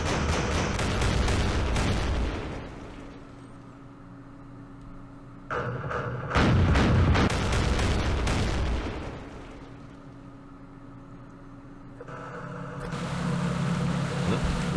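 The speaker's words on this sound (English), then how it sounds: "That blasted 40mm gun." A 40mm gun fires repeatedly in the war strategy game Campaign Series Middle East, during the Battle of Port Said. Loud, close booming blasts come in bursts, with quieter rumbling stretches between them.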